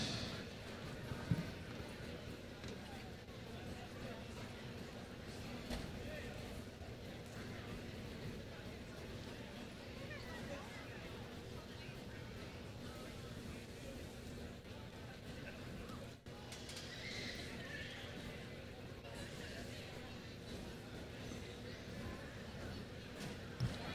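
Amateur roadster ponies, 50 to 52 inches tall, work the ring at a world championship horse show at a state fair, their hooves a soft, continuous trotting patter under a broad crowd and arena murmur.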